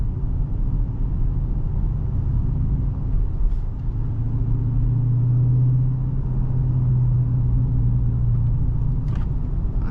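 A 2023 Chrysler 300C with the 392 V8 rumbles steadily while driving, its exhaust giving a deep, continuous low burble with no talking.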